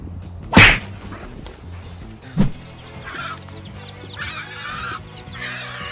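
Rooster and hens in a flock, with a sharp loud squawk near the start, another brief outburst after two seconds, and softer clucking that rises and falls throughout.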